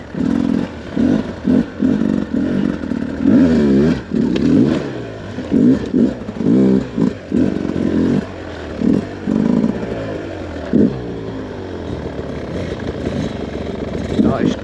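A two-stroke dirt bike revs on a dry but slippery trail hill climb, the engine rising and falling in short repeated bursts with a rider's voice talking over it.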